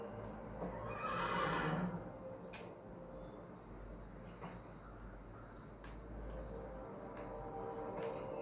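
A horse whinnies loudly in the Assassin's Creed video game, one drawn-out neigh, followed by faint hoof clip-clops and ambient insect chirps in a quiet outdoor scene.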